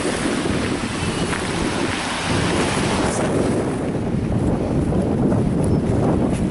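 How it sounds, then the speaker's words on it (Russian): Sea waves break on a shore under strong wind, with heavy rumbling surf and constant wind buffeting the microphone, loud and continuous with no voices. "Мы с Настей идем по берегу моря."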